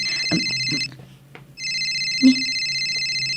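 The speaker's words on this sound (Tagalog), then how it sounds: "Agriring ti cellphone ko." A cellphone ringtone plays nearby in repeated electronic tone bursts. It pauses briefly, then resumes, loud and steady, with a few faint background noises and no clear talking.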